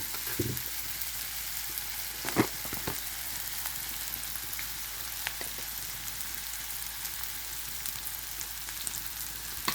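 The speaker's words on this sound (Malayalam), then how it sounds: "സവാള ഒന്ന് വഴണ്ട് വരട്ടെ." Sliced onion sautéing in a pan for brinjal mezhukkupuratti gives a steady, even frying hiss up close, with a few sharp clinks and scrapes of stirring near the start and no voices.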